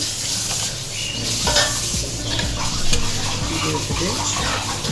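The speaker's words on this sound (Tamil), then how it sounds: "இந்த தேங்காய் பால் தலைப்பால் ஊற்றினதுக்கப்புறமா நல்லா கொதிக்குது" A pot of fish curry with coconut milk bubbles and simmers steadily up close, with a spoon occasionally scraping and stirring inside.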